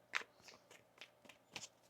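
Tarot cards are shuffled in a quiet room, giving soft papery riffles and light slaps in several separate bursts, close and fairly faint, with no voice over them.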